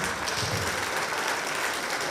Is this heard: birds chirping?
no